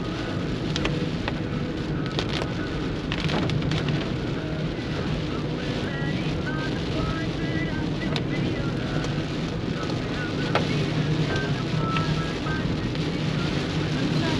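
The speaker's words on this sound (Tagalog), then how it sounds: "Malakas ang bugso ng hangin niya, at the same time malakas yung ulan niya" Heavy typhoon rain pours steadily with a constant roar of strong wind on a road near Tagaytay, Philippines, dense and unbroken throughout, with occasional sharper gusts and patters.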